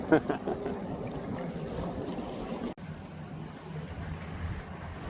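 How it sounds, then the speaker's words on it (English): Boats and jet skis pass by a jetty on open water, a steady wash of engine rumble, waves and wind noise that runs continuously with a brief dropout midway. "Watching the boats go by."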